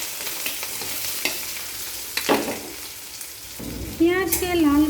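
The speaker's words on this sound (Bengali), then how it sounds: "সাদা তেল 2 চামচ প্রথমে দিয়ে দিলাম, কাঁচা লঙ্কা কুচি দিয়ে দিলাম" Chopped green chillies fry in two spoons of white oil, a close sizzle with a few stirring scrapes and clatters, then a brief voice joins near the end.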